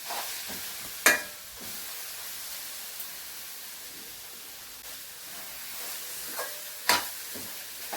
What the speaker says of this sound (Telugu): ఈ బెల్లం కొబ్బరి తురుముని బాగా పాకం వచ్చేలా వేయించుకోవాలి